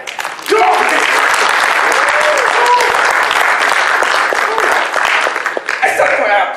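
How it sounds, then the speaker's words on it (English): Loud audience applause and cheering at a comedy show, dense clapping from a crowd that swells in quickly and holds steady, with a few scattered whoops and laughs mixed in. "I want to hear a round of applause for you guys."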